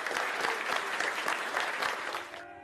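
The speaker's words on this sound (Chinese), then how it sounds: "首相府外挤满大批民众，有人欢呼，有人嘲笑" A large crowd outside Downing Street in London cheers and jeers as the new prime minister, Sunak, arrives, a dense continuous roar of clapping and voices that cuts off abruptly near the end.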